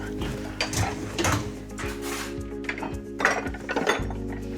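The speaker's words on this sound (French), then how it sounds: "Tu mets les couverts à leur place." Cutlery and dishes clink and rattle as a table is cleared and utensils are put away in a home kitchen, with repeated metallic chinks and a drawer sliding, under low background voices.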